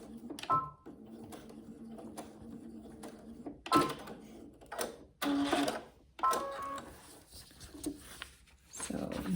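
A sewing machine set to a 2 millimetre stitch length back stitches along a paper piecing line for a table runner, with short bursts of rapid stitching between pauses and handling sounds, moderately close.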